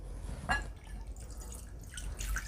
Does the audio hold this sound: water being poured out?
yes